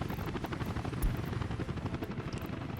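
Helicopters in the Workers and Resources city-building game drone with a steady rotor thrum, joined by a few short clicks and ticks and no speech.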